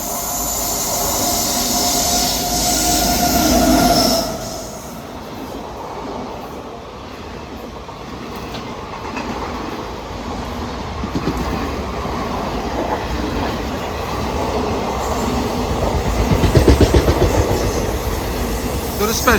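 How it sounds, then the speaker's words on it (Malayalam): A Charlapalli–Kollam special train runs through a small station: a loud, sustained rumble of wheels and carriages with rhythmic clatter and hiss, rising briefly near the end. "ഇതൊരു സ്പെഷ്യലാട്ടോ, ചർളപ്പള്ളി കൊല്ലം സ്പെഷ്യലാണ് പോകുന്നത്."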